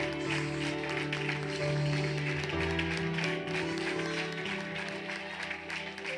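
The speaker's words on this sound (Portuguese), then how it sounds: "Vamos aplaudir o Senhor." A church congregation applauds together during a worship service, a steady wash of clapping over sustained organ or keyboard chords and music, fairly loud and continuous throughout.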